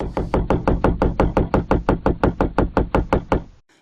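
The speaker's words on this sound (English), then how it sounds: "Remember folks, knocking is just knocking." Knocking on a door, about fourteen sharp, heavy raps in a steady even rhythm, loud and close, stopping abruptly at the end.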